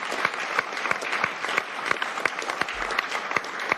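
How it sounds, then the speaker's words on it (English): Applause at a digital assets summit, a crowd clapping steadily with sharper individual claps standing out, continuous and fairly close. "at least 4 totally spontaneous rounds of applause"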